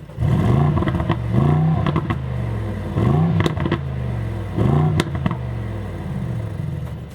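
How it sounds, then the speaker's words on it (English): A 2024 Mercedes-AMG GLS 63 engine revs repeatedly, its sport exhaust rumbling deep, with sharp pops and crackles punctuating each rise and fall of the throttle. "it opens up that exhaust. You can hear the cracks and burbles"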